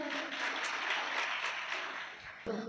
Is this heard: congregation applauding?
yes